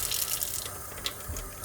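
Running tap water pours over hands being rinsed at a sink after washing with foam soap, a steady close splashing hiss with small irregular surges, heard alone without voices.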